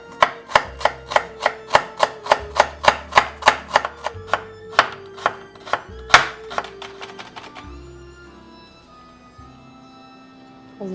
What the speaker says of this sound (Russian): 1 луковицу нарезаю как можно мельче.